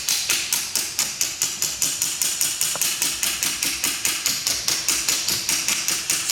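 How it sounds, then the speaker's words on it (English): A hammer strikes a car part over and over to drive it out, with sharp, evenly spaced metallic blows at a quick steady rhythm, loud and close throughout. "put this across like this, and smack it."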